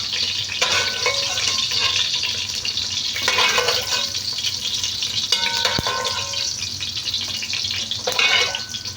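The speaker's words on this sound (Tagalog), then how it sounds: "Papakrispy ko muna guys ang ating hotdog." Hotdog pieces fried until crispy in a pan for a chicken sopas, with a continuous busy sizzle and occasional stirring clatter. Moderately loud and close, with no talking.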